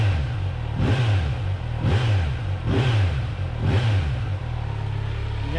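A Suzuki GSX-R 600 motorcycle engine warming up at idle, its revs jumping in four or five quick rhythmic surges over a steady, loud, close-up drone with no voices.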